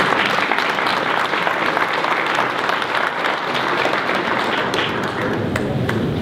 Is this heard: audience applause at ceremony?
yes